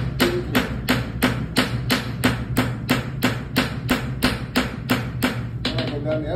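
A farrier's hammer strikes a horseshoe in a steady, evenly spaced series of about sixteen loud ringing blows, close by, ending with a scrape and clatter.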